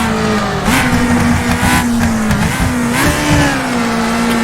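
Race car engine in the road-racing sim rFactor 2, droning loud and steady as it downshifts into first gear, with brief revving blips and pitch changes over a constant engine roar.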